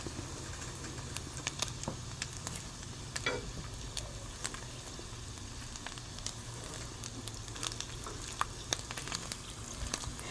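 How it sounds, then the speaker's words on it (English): Eggs and bologna frying in butter in a skillet: a soft, steady sizzle with faint crackling pops throughout, fairly quiet and close, with no talking. "scramble the eggs right here in the skillet without scrambling them first. I got a little butter in here with these."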